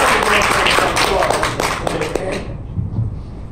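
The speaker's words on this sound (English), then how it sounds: "So give yourselves a round of applause for that," An audience at a convention speedrun panel breaks into a short burst of clapping and applause that fades out after a few seconds.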